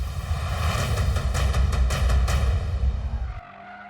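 An Audi RS 3 prototype is driven hard on a racetrack in drift mode, its engine roaring loudly with rising, pulsing revs and tire noise before cutting off abruptly near the end.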